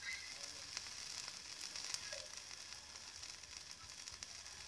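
A quinoa tortilla fries in a pan, giving a steady, faint hiss of sizzling oil with a few tiny crackles and no talk.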